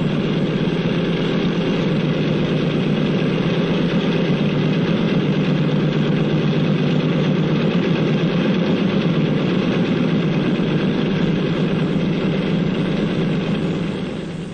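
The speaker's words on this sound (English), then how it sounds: "The plane starts over to the runway." Airplane engine droning steadily as the plane taxis toward the runway at a 1948 airport, a continuous loud rumble with a constant hum and no pauses.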